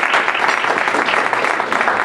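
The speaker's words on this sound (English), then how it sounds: "please, a round of applause for Heart of Oregon" An audience at a Heart of Oregon Corps presentation claps steadily, a dense, continuous wash of applause close by with no voices over it.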